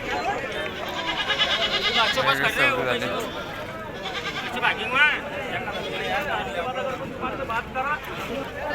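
Goats bleating repeatedly at a busy village goat market in Maharashtra, overlapping calls close and far amid crowd noise, with people talking throughout.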